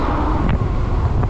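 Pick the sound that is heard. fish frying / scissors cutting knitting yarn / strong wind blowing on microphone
strong wind blowing on microphone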